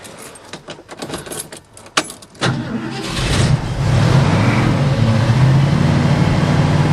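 Keys jangle and click in the ignition of a 1972 Ford truck before the engine cranks and catches on the first try, settling into a loud, steady running roar close by.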